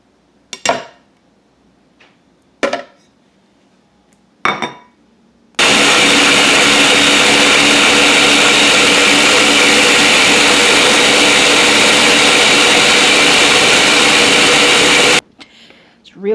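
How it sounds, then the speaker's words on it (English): A blender whirs loudly and continuously for about ten seconds as it purees fresh aloe vera gel. A few clanks and knocks of handling come first, and the motor cuts off abruptly at the end. "And I'm going to toss this in my blender."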